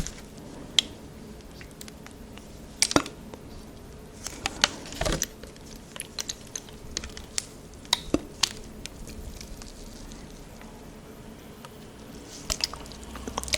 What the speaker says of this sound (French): Alors, l'eau, ça va être un peu ça.